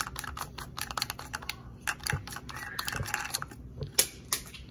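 The line spool cap on an old Ryobi string trimmer is unscrewed by hand, producing a close run of quick plastic clicks, ratchety ticks and light knocks in an irregular rhythm, with no voices.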